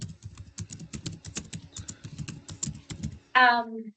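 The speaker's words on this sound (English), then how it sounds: "Somebody's typing is very loud." Rapid, loud keyboard typing clatters steadily for a few seconds during an online public meeting, then a brief tonal sound cuts in near the end.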